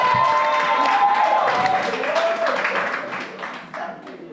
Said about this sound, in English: Give him a big round.